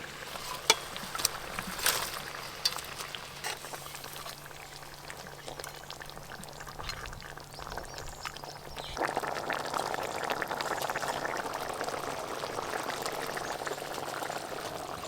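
Rohu fish curry gravy with poppy seed paste boils in a pot with a continuous bubbling simmer, a few sharp clinks early on, and a fuller, louder boil in the second half.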